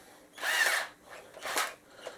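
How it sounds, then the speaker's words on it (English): A Michigan Industrial Tools cordless drill, an underpowered budget model on a battery needing a recharge, whirs in two short bursts of about half a second each, then a brief faint blip, fairly quiet with no talking. "sadly this drill just doesn't have the power to get the job done"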